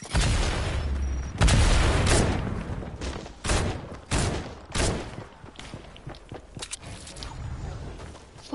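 Gunfire in a first-person shooter video game: several loud, sharp cracks and booms spread across the stretch, the heaviest near the start, with shorter bursts and clicks following.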